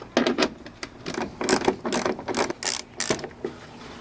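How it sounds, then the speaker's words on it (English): A hand ratchet works a small 10 millimeter bolt on the side step of a Land Cruiser 100, making quick clicking bursts in uneven rhythm, close and clear, with short pauses between strokes. "there's going to be a small 10 millimeter little bolt right there. Make sure you remove that."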